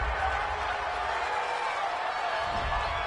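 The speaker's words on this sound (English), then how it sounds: "This home crowd, they're happy with that call." Home crowd at an indoor football game cheering a referee's call, a broad steady roar that stays constant for a few seconds at a moderate distance.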